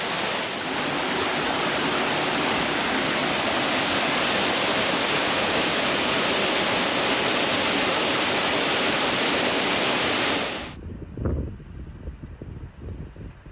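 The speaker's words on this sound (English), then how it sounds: "I found this waterfall." Waterfall on the Hall Lake loop among coastal dunes, a loud continuous rushing roar that cuts off abruptly near the end, leaving quieter ambient noise.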